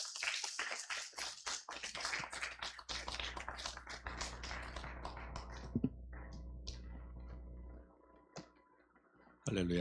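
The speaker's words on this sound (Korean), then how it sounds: "우리 목사님 앞으로 나오실 때 환영의 박수, 또 하나님께 영광의 박수 같이 올려드리도록 하겠습니다" Welcoming applause in a Sunday church service for a pastor coming forward, brisk clapping from several people that thins out into scattered claps and a few isolated taps before a final burst.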